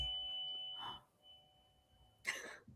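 A dog ringing a potty bell to go outside, with a faint bright jingle near the start and a louder ringing clang toward the end, set in a quiet room.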